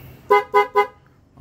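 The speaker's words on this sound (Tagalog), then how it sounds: "Passing horn." Three short, bright horn beeps in quick succession from a Yamaha Mio Sporty scooter's passing horn, close and loud, followed by quiet.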